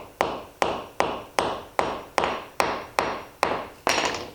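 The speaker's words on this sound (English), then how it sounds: "That on there, hammer just that single one" A hammer strikes a cable stake tie-off for trapping with ten sharp, evenly spaced blows, each ringing briefly before the next, close and loud with no talking.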